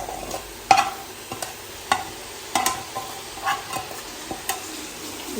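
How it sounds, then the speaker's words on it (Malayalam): Fried chicken pieces tossed into a pan of sizzling vegetables, with a soft, steady fry underneath and repeated scraping stirs of a spatula at irregular intervals, close and moderately quiet, no talking. "ഇനി നമുക്ക് നമ്മുടെ ഫ്രൈ ചെയ്ത് വെച്ച ചിക്കൻ ഇടാം കേട്ടോ"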